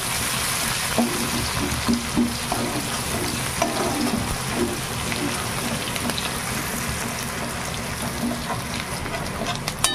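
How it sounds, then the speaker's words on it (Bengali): Chopped onion sizzles steadily in a hot pan for a fish dish, a dense, even crackle of frying with faint stirring scrapes throughout and no talking. "দিয়ে দেবো পেঁয়াজ কুচি, পেঁয়াজটাকে একটু ভেজে নেবো।"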